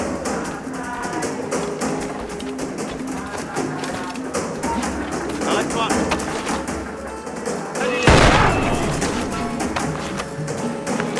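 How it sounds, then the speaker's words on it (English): A single loud blunderbuss blast from Adewale's weapon in Assassin's Creed Freedom Cry bursts out over steady in-game music and ambience, followed by a short ringing tail. "it's best to use the blunderbuss, Adewale's powerful new weapon."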